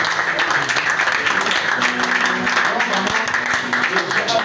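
A church congregation applauding during a worship service, a steady dense wash of clapping that runs the whole time, with a voice speaking over it.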